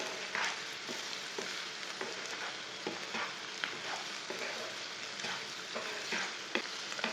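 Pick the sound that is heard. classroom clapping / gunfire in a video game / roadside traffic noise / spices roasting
spices roasting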